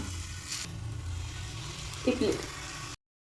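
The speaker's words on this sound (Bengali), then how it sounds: "খুব ভালো করে ফ্রাই করে নেবো।" Chili and garlic sizzle in a pan of hot oil on a gas stove, a quiet, steady frying hiss with a brief stirring clatter near the end before cutting off.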